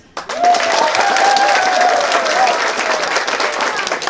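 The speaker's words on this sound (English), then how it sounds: "Let's give a big clap for those people who were here exactly 6." Loud audience applause breaks out at a 2015 Northeast NSS festival event, a dense sustained clapping crowd that swells quickly and holds steady, with a voice briefly audible above it.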